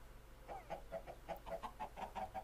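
Chickens in the Minecraft PlayStation 3 Edition video game cluck in a steady string of short, close, moderately loud calls, about a dozen in quick succession with no talking.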